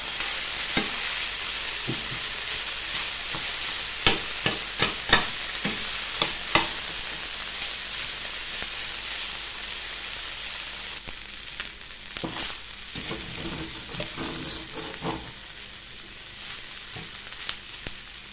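Rice stir-fried in a hot pan for mackerel fried rice with cha-om, a steady loud sizzle broken by repeated scraping and stirring clacks of the spatula, with no talking.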